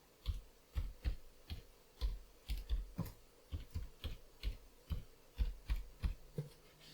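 Steady typing on a computer keyboard while entering a step into Opentrons OT-2 liquid-handling protocol software, with a dozen or so crisp, close keystrokes in an even rhythm and no talking.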